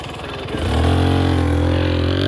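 A motorbike engine starts up near a muddy dike trail in Colorado and settles into a loud, steady idle with a deep throbbing drone that holds close and continuous.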